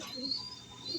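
Pigeons coo softly and steadily in a loft, a low murmuring call with faint chirps mixed in, heard up close over a continuous background hum.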